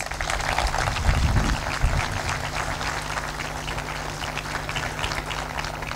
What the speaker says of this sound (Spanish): les pido un muy fuerte aplauso